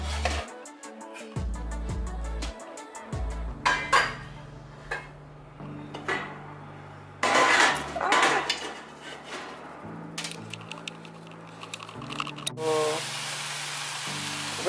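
Mushrooms stirred in a lightly oiled pan on a stove, with clattering utensil scrapes and knocks against the pan, a soft sizzle underneath, and background music playing throughout.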